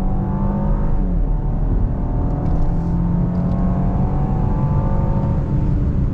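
A 2021 Genesis G80 Prestige twin-turbo luxury sedan accelerates hard out of a right-hand bend, its engine droning steadily with rising harmonic tones, loud and close throughout with no talk over it.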